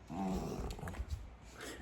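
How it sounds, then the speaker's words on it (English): A dog lets out a low growl that breaks into a short rough bark, close by and fairly quiet, with faint thumps after it. "You need to stop barking at a lizard outside."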